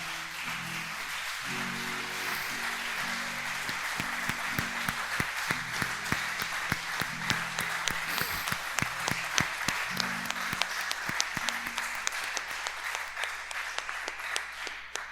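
Church congregation applauding, sustained clapping from many people throughout with individual claps standing out sharply, while a low musical drone or voice hums underneath.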